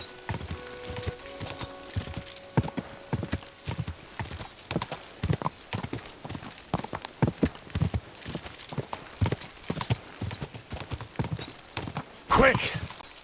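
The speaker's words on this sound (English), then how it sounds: "Easy, good horse." Horse hooves clip-clopping steadily in the medieval game Kingdom Come Deliverance II, a continuous walking rhythm close by with a brief whinny near the end and a voice speaking over it.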